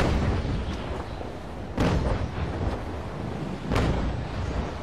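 Naval gunfire striking a ship in a video game: a few heavy booming impacts spaced a couple of seconds apart over a constant rumbling, wind-like background, with no voices.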